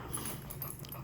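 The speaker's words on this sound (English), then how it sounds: "Thank you for breathing so loudly, dog." A dog breathes loudly and heavily close by, a brief, steady rush of breath with no talking.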